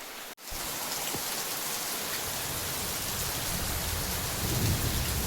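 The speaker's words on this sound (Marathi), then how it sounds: "ढगांचा गडगडाट तर मंडई आता पाऊस जोरदार सुरू असल्यामुळं इकडं आम्ही सागरला आतमध्ये बांधून ठेवलेलं आह" Heavy monsoon rain pours down steadily in Konkan, with a low rumble of thunder rolling beneath the constant downpour.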